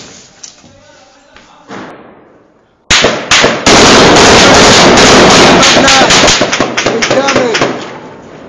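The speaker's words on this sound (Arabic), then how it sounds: "وتم تفجير المبنى بالكامل" A building held by fighters in Aleppo is blown apart in one sudden, massive blast, followed by a long roar of debris and rapid bursts of gunfire, after quieter distant shots and voices.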